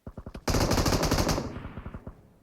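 Machine gun fire from PUBG Metro Royale: a few separate shots lead into a loud, rapid automatic burst lasting about a second, then a fading echoing tail, close and with no voices over it.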